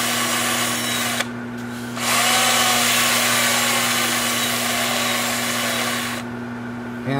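A power sander works a rustic alder wood bowl, producing a steady, loud, close motor whine with a tonal hum. The pitch and intensity shift as pressure changes and briefly drop back partway through.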